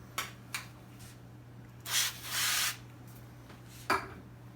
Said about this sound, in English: I'm going to spray the pan just a little